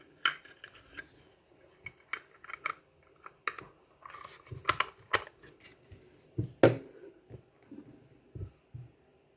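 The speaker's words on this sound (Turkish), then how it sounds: "Şöyle koyalım eşyalarımızı Kapağını da kapatalım." Small items are set down with light clatters and clicks, then a plastic lid snaps shut over a homemade surprise package, a sparse series of close, sharp knocks and rustles.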